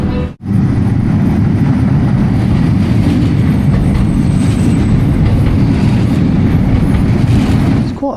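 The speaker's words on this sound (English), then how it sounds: "you can see the train crossing the bridge" A train rolls across a high bridge in Porto, a loud continuous rumble with wheel clatter running nearly unbroken for about eight seconds after a brief dip at the start.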